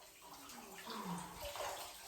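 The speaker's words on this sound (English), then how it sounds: "Oh my God, water went everywhere." Water splashing in a bathtub, a faint, continuous sloshing and swishing that swells slightly in the middle, heard alone without talk.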